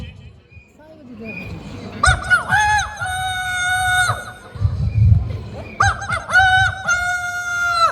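A Bengali mimicry performer imitates a rooster crowing with his voice, two long, loud, wavering crows close to the microphone, with a murmur of audience noise between them.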